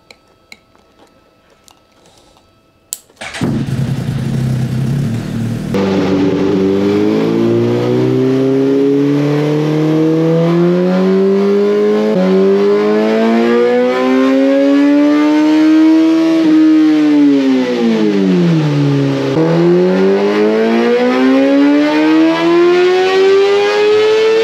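A Suzuki GSX-R1000R motorcycle engine on a dyno during ECU mapping, starting from a quiet garage and then roaring loud and steady while its pitch climbs through repeated sweeping revs, dipping once before rising again, with no talk.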